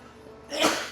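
A single short sneeze bursts out indoors, close and moderately loud, after a brief quiet lead-in.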